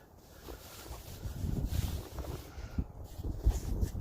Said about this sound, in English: We do have a little bit of wind.